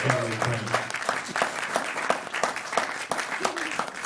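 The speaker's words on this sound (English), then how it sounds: "Let's give them a round of applause." A crowd applauding after a jazz ensemble's performance at the 2016 Berklee High School Jazz Festival, many hands clapping in a dense, sustained burst while a voice or two rises briefly at the start.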